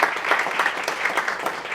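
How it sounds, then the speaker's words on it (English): Steady, dense applause from an evening debate audience at a university, filling the whole stretch at an even level with no talk over it. "I want to give a big round of applause to Michelle for putting this on"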